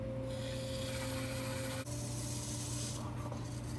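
Clay pot having its foot trimmed on a pottery wheel in a small home apartment studio: a steady, continuous scraping rasp over a constant motor hum, with one brief dip partway through before the trimming resumes.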